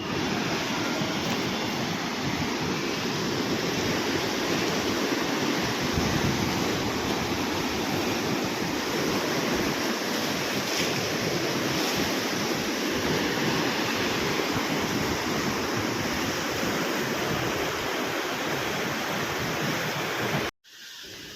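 Water rushes at the front of a dam in Anantapur, a dense, steady roar of churning flow, loud and close, continuing unbroken before cutting off briefly near the end.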